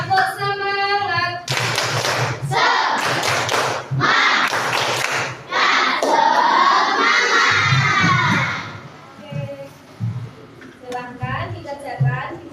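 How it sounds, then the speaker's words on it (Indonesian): A classroom of sixth-grade children bursts into loud, rhythmic group clapping mixed with shouting and cheering, in several quick bursts, with a teacher's voice speaking between them. "Boleh dong tepuk semangat dulu. Tepuk semangat."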